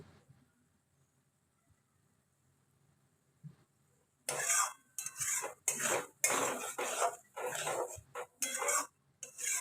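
Prawn curry stirred in a pan on a low flame, with a few faint clinks at first and then a run of scraping, clattering spoon-on-pan bursts up close, separated by short pauses.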